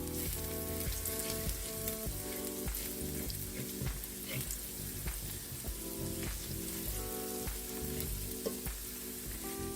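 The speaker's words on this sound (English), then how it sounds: "you're gonna let that saute for about a minute" Red pepper flakes sauté in a pan for a garlic butter shrimp and broccoli stir fry, giving a steady, close crackling sizzle that runs throughout beneath rhythmic background music.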